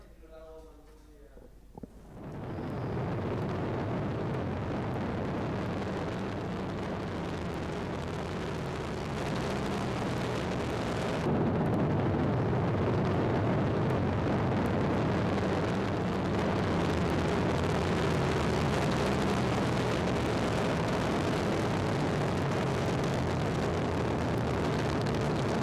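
Vega rocket lifts off and climbs quickly, a sudden onset of loud, sustained broadband roar that rumbles on unbroken and grows slightly heavier partway through, with no voices over it.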